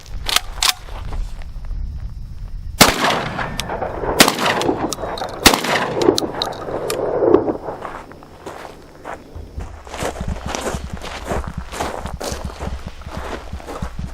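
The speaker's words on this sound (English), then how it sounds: "then he's immediately gonna fire two rounds of 4-shot to check the cycling" Legacy Sports Citadel Warthog 12 gauge semiauto shotgun fires 2 3/4 inch shells outdoors on a range, with several sharp, loud reports spaced a second or so apart amid shuffling and movement noise.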